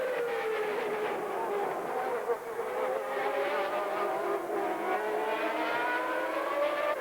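Formula One race cars of the 1991 season scream past at a circuit's first corner, their high engine notes rising and falling as they overtake, a steady loud roar with no talk over it.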